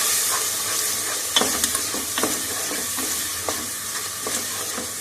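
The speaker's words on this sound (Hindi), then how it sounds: "अच्छी तरह भून लूँ मसाला" Masala sizzles and fries in a hot pan while a spoon stirs and scrapes through it at intervals, a continuous hiss with light clinks, and no one speaks.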